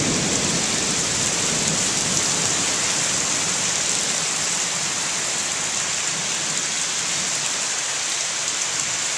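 A summer thunderstorm with heavy rain after warm, muggy weather, a dense steady hiss of rain pouring on surfaces that stays loud and even throughout, with no voices.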